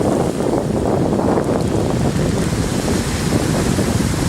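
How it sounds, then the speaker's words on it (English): Strong wind roars steadily along the coast the day after Hurricane Maria, buffeting the microphone with dense, rumbling gusts that blend with the wash of nearby surf. "The wind is picking up."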